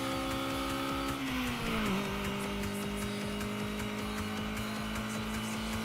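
A race car engine in the video game Redline Reverie drones steadily and loudly throughout, its pitch dipping briefly with a shift before holding a constant high rev, with no talking.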